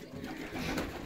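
Pigeons cooing inside a breeding loft, a soft continuous murmur of low throaty calls with no voices.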